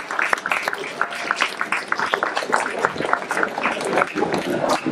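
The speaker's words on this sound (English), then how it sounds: "Let's give them a big round of applause." An audience at a DIY science and technology panel claps for the London Biohackspace speakers, a dense patter of clapping sustained for several seconds with voices mixed in.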